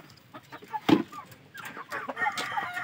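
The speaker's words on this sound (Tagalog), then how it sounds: "Ito yung native chicken ng Panay." Darag native chickens of Panay cluck and chatter nearby on a breeding farm, with one louder sharp call among several softer overlapping clucks.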